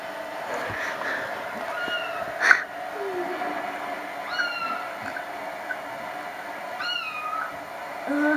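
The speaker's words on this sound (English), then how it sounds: "I wonder if Sprinkles is watching it just for the TV or just for the cats." Cats meow from a television, several short mewing calls spread across the span over a low background hum, with a sharp knock in the middle and faint talk.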